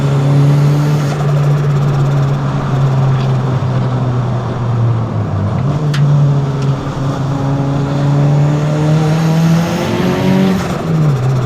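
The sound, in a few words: Lancer with 4G93 engine driven hard, snow tyres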